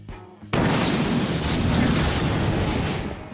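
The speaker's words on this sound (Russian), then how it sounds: "Бегу, бегу, убегаю от взрыва максимально быстро." After a quiet moment, a sudden explosion in the game Garry's Mod bursts out and settles into a heavy, sustained rumbling roar that slowly fades.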